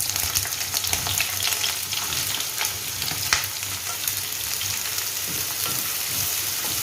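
Three lengthwise-sliced onions sauté in hot coconut oil for a Kerala-style mutton curry, giving a steady, dense sizzle with scattered crackles and occasional stirring scrapes, close and continuous.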